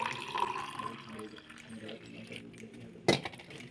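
Freshly strained cucumber juice pours with a close, soft trickling splash into a vessel, followed near the end by one sharp clink, while a voice speaks faintly in the background.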